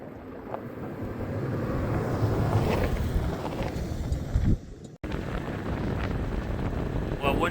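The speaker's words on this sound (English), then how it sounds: "the wind got crazy up on that spot I was at" Strong wind buffeting the microphone at a winter campsite in Colorado, a steady loud roar with rising gusts and a brief dropout, no voices.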